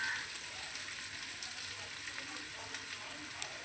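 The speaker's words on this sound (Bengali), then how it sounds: "তেজপাতা একটা চিড়ে দিচ্ছি, সাদা জিরে দেব, দারচিনি, লবঙ্গ, এলাচ, এগুলি সব ফোড়নে দিচ্ছি আমি" Whole spices (bay leaf, cumin, cinnamon, clove and cardamom) sizzle in hot oil for a vegetarian paneer dish, giving a soft, steady frying hiss that stays even and low throughout.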